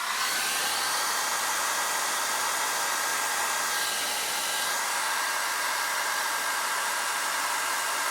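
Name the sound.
hair dryer on warm setting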